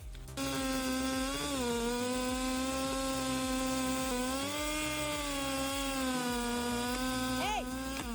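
A big chainsaw bores into a tree stump, its engine holding a loud steady whine under load with slight pitch dips as the bar plunges into the wood, running nearly continuously up close.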